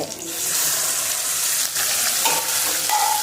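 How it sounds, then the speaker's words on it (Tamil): Mustard seeds and curry leaves frying in hot oil for South Indian moong dal paruppu, a loud continuous sizzle with crackling and brief scraping stirs near the end, close up and without speech. "கடுகு போட்டுடுச்சு. கறிவேப்பிலை போட்டு"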